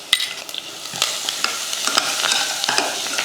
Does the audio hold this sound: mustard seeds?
yes